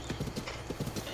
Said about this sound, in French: Oh, un cheval!